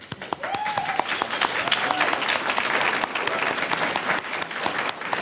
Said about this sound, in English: stand up so that we can give you a round of applause before we even get started